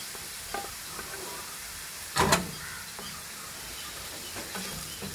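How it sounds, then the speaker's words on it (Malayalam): A pan of onion and blended tomato sautéing on a home stove gives a faint steady sizzle, with one short scraping stir in the middle and a few light clinks. "നമ്മുടെ ഉള്ളിയും തക്കാളിക്കൊക്കെ ഒരുവിധം വഴണ്ടിട്ടുണ്ട്"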